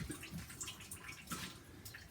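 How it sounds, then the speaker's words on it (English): A washing machine runs on its clean washer cycle, giving faint splashing and trickling water sounds with soft drips at close range. "I'm just going to let the washer run on the clean washer setting."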